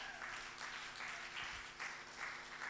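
A church congregation applauds, giving a soft, continuous wash of clapping heard from a distance that holds steady for a few seconds with no break.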